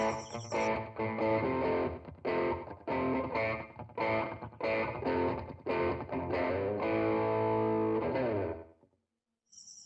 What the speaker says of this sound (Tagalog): engage natin yung ating overdrive